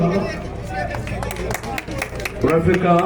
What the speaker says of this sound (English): A big round of applause for the runner.